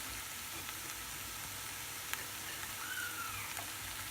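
Sugar snap peas with red and yellow peppers frying in a turkey stir-fry pan: a constant, even sizzle and hiss with a few faint clicks of stirring, moderately quiet and unbroken.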